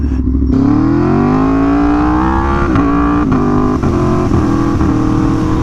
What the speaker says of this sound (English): I am back on a motorcycle, and it feels pretty good.